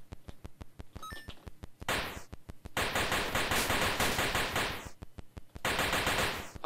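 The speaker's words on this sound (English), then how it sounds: "Oh, it's a machine gun." Rapid machine gun bursts in a video game, a steady rhythmic stream of loud shots broken by brief pauses and a few electronic beeps near the start.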